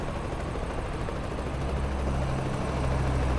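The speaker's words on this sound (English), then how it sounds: "Wait, they got a chopper out there." A helicopter in American Truck Simulator gives off a steady, droning rotor and engine rumble that holds evenly throughout at a moderate distance, with no talk over it.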